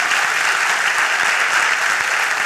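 A studio audience at a Turkish comedy sketch show breaks into sustained, dense applause, steady and loud throughout with no speech over it.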